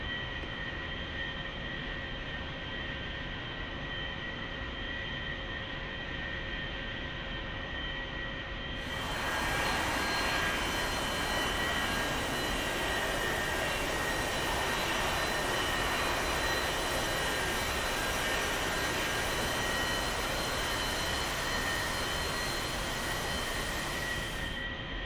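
A-4E jet taxiing toward the runway in the DCS flight simulator, a steady whining jet engine drone that swells into a louder broadband roar partway through and then holds, with no voices.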